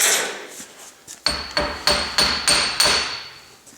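A hammer taps a metal outer CV joint onto a Honda axle six times in a steady rhythm, each strike sharp and ringing, close by, after some softer scraping handling noises.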